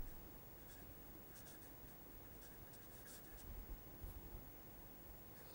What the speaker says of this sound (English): let me write it down for you to have an idea